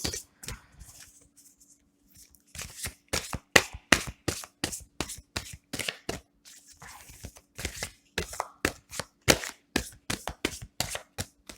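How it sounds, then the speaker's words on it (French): Large tarot cards being shuffled close by, with rapid, irregular papery riffles and slaps in bursts, a pause early on, then steady repeated shuffling. "Elles sont très très grandes ces cartes, hein, c'est toujours très difficile à mélanger."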